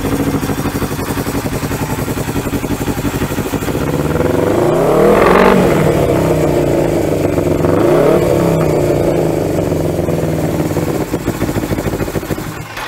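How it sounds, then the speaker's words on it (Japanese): Air-cooled classic vehicle engine running steadily, then revved twice in rising and falling swells before settling back to a dry, even idle; close and loud throughout, with no talk. "音も旧車らしく乾いた音といいますか、空冷独特の、音ですごい気に入ってます。"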